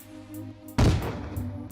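A Minecraft firework rocket with a creeper-face pattern bursts in the video game, a single sudden loud boom followed by a fading crackling tail after a quiet low hum.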